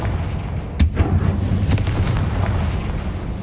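A Confringo fire spell explodes in Hogwarts Legacy on PS5: one sharp, loud boom, followed by a few rumbling crackles and smaller bursts that keep going under the noise of the game.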